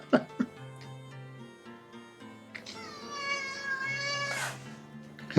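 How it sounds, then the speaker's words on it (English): A pet cat meows repeatedly and insistently for attention indoors, a series of drawn-out, rising cries close by, with a couple of soft clicks or coughs near the start and end. "One of my cats is yelling at me to pay attention to her."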